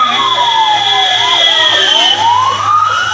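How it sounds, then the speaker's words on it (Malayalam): An ambulance siren wails loudly as the vehicle speeds past, its tone sweeping steadily up and down over a constant high whine, with no voices. "ഏതോ ഒരു ആംബുലൻസ് ചീറിപ്പാഞ്ഞ് പോണ സൗണ്ടാണ്"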